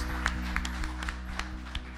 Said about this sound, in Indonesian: Kita berikan tepuk tangan bagi Tuhan Yesus